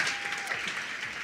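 Short burst of audience applause at a women's empowerment conference, dense steady clapping at moderate level with a faint tone passing through early on.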